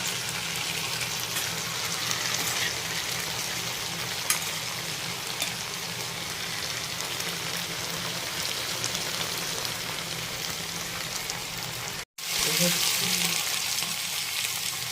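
Okra stir-frying in a pan for a Kerala mezhukkupuratti, a dense continuous sizzle with faint stirring, close and steady, briefly cutting out near the end before resuming.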